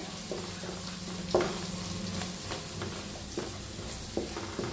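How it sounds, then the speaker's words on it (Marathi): Masala of dried red chillies and curry leaves roasting in a pan for stuffed brinjal, a steady sizzle broken by spatula scrapes and stirring knocks, close and continuous with no talk. "छान भाजून घेऊया मसाल्याला बी"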